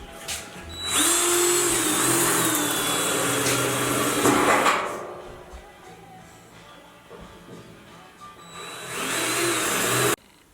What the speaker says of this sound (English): Dad was drilling holes for me